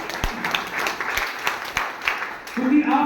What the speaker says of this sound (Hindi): तो एक तालियां उसके लिए होनी चाहिए